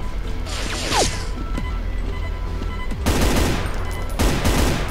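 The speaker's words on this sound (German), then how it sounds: "Oha, hier wird scharf geschossen." Bursts of rapid gunfire during live shooting, dense crackling volleys that start and stop over a few seconds, with whooshing passes and mechanical sounds between them.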